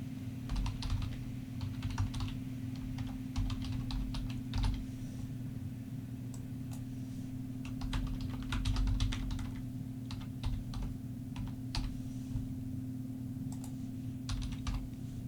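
Continuous typing on a computer keyboard during GitHub account sign-up, with irregular bursts of clicky keystrokes over a steady low hum, close and moderately loud, with no voices.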